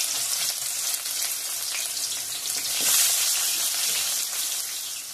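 Bay leaf and onion hitting hot oil in a pan, a bright sustained sizzle that swells briefly midway, with light stirring, close and alone.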